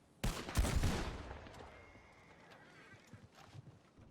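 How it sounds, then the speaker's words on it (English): A Litchfield gun fires at a funeral salute in a video game. One loud, close shot is followed by a long echoing decay with a few faint pops and distant sounds as it fades. "This gun sounds fucking cool. Yeah, it's a Litchfield."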